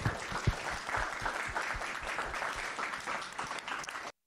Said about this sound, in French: on peut leur applaudir